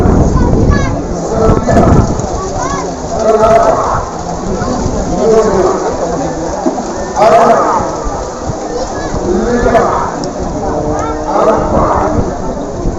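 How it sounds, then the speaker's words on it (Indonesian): Heavy rain pours steadily at an outdoor bull-race venue in Sumenep, with deep rumbles of thunder rolling through. Someone talks over the downpour throughout. "karena hujannya begitu lebat teman-teman"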